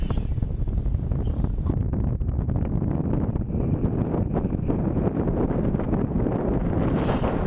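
Strong wind buffets the microphone beside Laguna Verde in the Sud Lípez highlands, a steady, heavy roar that rumbles unbroken throughout, with no other sounds emerging.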